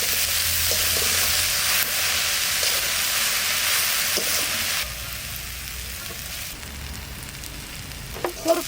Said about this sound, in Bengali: কুরপাড়ের শাক এই দেখেন ভাজা হয়ে গেল।